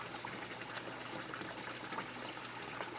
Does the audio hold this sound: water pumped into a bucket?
yes